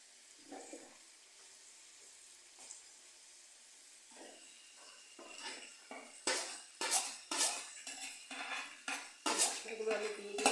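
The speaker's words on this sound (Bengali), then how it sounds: "এখানকার যে চিংড়ি মাছটা আছে পুরোটা দিয়ে দেবো।" A spoon scrapes and clatters again and again in a metal pan as prawns and spices are stirred together for prawn cooking. The strokes come close and rhythmic and grow louder and busier toward the end.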